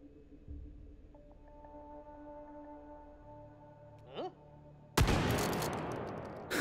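Gunfire in the VR shooter Hot Dogs, Horseshoes & Hand Grenades on a tower custom map: quiet tonal hum and a brief sweep, then a sudden loud shot with a long noisy blast and echo.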